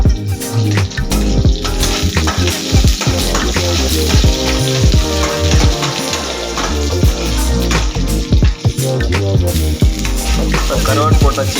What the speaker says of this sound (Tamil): கொஞ்சம் மெதமாக லைட்டாக வணக்கிட்டு கருவாடு போட்டாச்சு